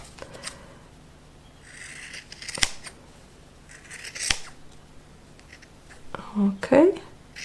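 Scissors snip through fabric while trimming a seam allowance to about one centimetre during home garment sewing, a few close crisp cuts with brief soft whispery sounds between them.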